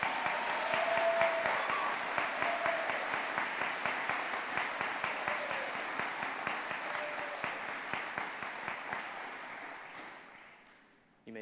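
Steady applause from an indoor audience at a 2021 graduation ceremony, with clearly rhythmic clapping at a moderate distance that holds for about ten seconds before fading out.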